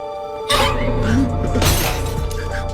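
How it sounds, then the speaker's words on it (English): Glass shatters abruptly with a bright crash, followed by a second burst of breaking and tinkling debris over a steady background hum and narration. "his wife's photo fell to the ground and shattered"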